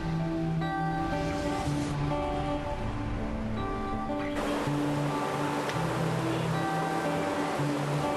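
River rapids rushing past on a canoe journey, a steady broad wash of churning water filling the whole stretch, loud and close, with slight shifts in texture.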